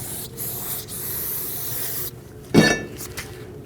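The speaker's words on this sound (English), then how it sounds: "Use some brake parts cleaner with a drain pan underneath and rinse all this down the inner braking surface as well" Brake parts cleaner hisses from an aerosol can onto the rear brake rotor of a 2014-2019 Cadillac CTS in a steady close spray of about two seconds, then stops, followed by a brief louder burst.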